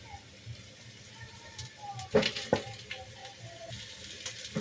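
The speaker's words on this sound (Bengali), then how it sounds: "এবার দিয়ে দিলাম পোস্ত বাটা।" Poppy seed paste frying with onions already browned red in a pan, cooked as stuffing for fried eggplant. A low, steady sizzle runs throughout, with a couple of sharper stirring clatters near the middle and no talking.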